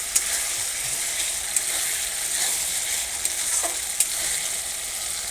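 A ground spice paste (masala), made from hand-ground dried red chilli, fries in a pan with a steady broadband sizzle, cut by a few sharp clicks and scrapes, at close range with no voices.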